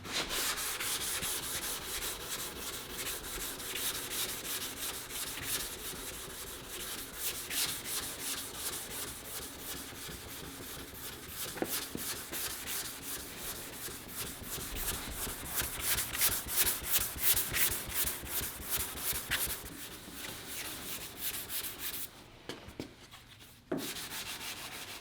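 Steady rubbing of a sanding block with 320 grit paper across guide-coated body filler on a Chevrolet Nova's rust-repaired rocker panel, continuous close scraping strokes for the whole stretch with no talk.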